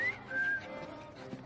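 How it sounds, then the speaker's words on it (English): A short, clear whistled tone, two thin sustained notes over a soft background hum, moderately loud and close, from Assassin's Creed Syndicate. "I've just learned to whistle."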